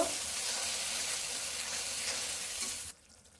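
A gravy paste of spices, poppy seed and cashew sizzles steadily in a pan as it is stirred, a close, even frying hiss that cuts off abruptly near the end.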